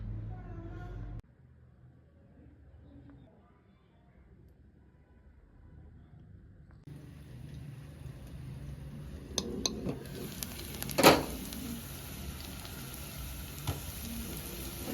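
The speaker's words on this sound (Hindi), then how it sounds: "चिकन विंग्स अंदर डाल दिए, आलू और शकरकंदी फ्राई कर लूँ देसी घी में" Chicken wings frying in desi ghee: a quiet stretch gives way to a loud, steady sizzling hiss, with a few sharp pan clatters partway through.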